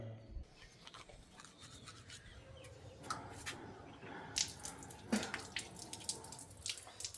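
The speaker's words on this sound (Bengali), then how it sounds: "এবার আমাকে ব্রাশ করতে হবে তো চলো ব্রাশ করে নিই" Teeth being brushed with a toothbrush beside a running tap, quiet scrubbing strokes over a faint flow of water and occasional drips, with a rooster-like call in the background and no speech.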